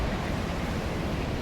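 Mountain waterfall fed by glacier meltwater below a snowy peak, a dense, steady, loud rushing roar of falling water with no breaks.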